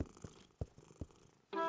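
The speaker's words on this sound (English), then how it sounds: "Mommy and Caillou heard a quiet meow." A cartoon cat purrs in soft, rhythmic low pulses, close and quiet, ending with a brief higher meow-like tone.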